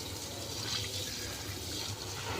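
Water poured steadily over the soil at the base of a grapevine during routine fertilizing, a continuous broadband splashing and trickling with no talk.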